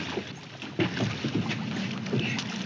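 A motorboat engine runs with a low, rough rumble, close and steady, mixed with gusty wind noise over a few seconds.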